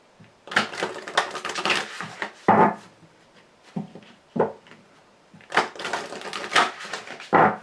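A tarot deck cut and shuffled by hand, close up, in several quick clusters of papery riffling and light taps separated by short pauses.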